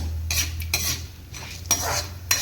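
Dal and curry leaves dry-roasting in a pan, with a few brisk stirring scrapes and metallic clinks of a spoon against the pan, separated by quieter pauses.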